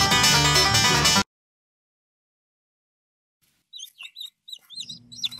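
Small birds chirp in quick, bright bursts after a short burst of loud music and a stretch of silence, the calls close and clear, joined near the end by a low steady hum.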